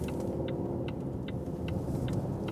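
Inside a Volvo XC40 pulling away from a stop and turning a 90-degree corner, a steady low cabin rumble of engine and road runs under a regular, quiet ticking repeated about twice a second.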